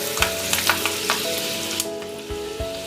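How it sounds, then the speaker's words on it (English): Sichuan pepper, black pepper, fenugreek seed and bay leaves fry in hot oil for a homemade laphing chili sauce; a steady close sizzle with occasional stirring clinks, no talk. "and fry for a couple minutes"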